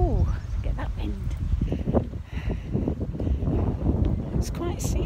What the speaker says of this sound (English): Oh, get that wind.